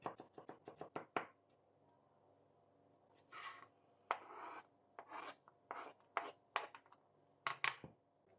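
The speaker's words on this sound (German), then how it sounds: "Anschließend hacken wir noch 2 Knoblauchzehen klein." Quick knife strokes tap against a cutting board in bursts as two garlic cloves are chopped, a fast run of chops followed by slower scraping and chopping, close and fairly quiet.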